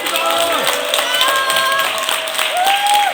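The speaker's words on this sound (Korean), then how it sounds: "힘차게 박수와 함성으로 지지문 채택을 해주시면" Party members at a Seoul chapter founding rally applaud and cheer together, a dense sustained roar of clapping and voices filling the hall for about three seconds, with a few shouted tones rising above the crowd.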